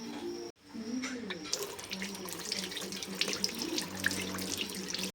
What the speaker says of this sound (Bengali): এখন এই ডিমটা বেশ সুন্দর করে ধুয়ে তারপরে ভাতের ভেতরে দিয়ে দেবো।